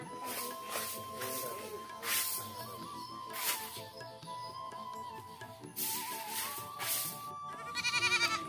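Two village goats bleating in short, broken calls at a rural homestead, with several loud cries spread through the clip over a steady background hum.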